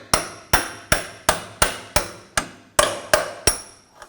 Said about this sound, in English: And then I'll take a punch and a hammer and just punch the bolt out.